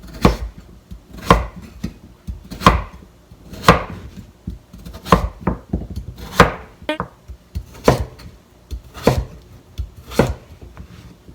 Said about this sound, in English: Next, cut it into bite-sized pieces.